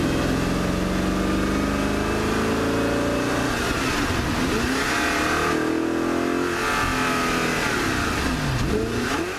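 An Audi R8 V8 engine revs repeatedly toward 8,000 RPM, loud and close, its pitch climbing and falling in several sweeping pulls over a continuous mechanical roar.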